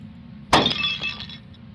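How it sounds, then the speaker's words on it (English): In the horror video game Fractured Psyche, a light bursts with a sudden sharp glass shatter, followed by a brief tinkling scatter of shards over a low background hum. "The light exploded."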